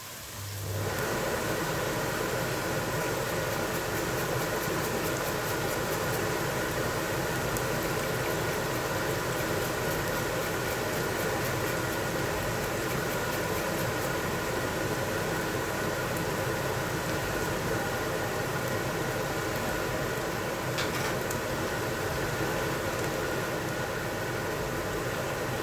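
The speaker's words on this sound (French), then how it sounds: "désolé pour le bruit, mais je suis obligée de mettre un petit peu la hotte là" A kitchen range hood fan running steadily while cooking cassoulet, a constant broadband whoosh that fills the whole stretch at even volume.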